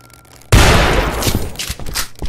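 Gunfire in the video game Suicide Guy: Sleepin' Deeply erupts suddenly after a quiet moment, a loud, dense burst of shots with a sustained rumbling tail that lasts about two seconds.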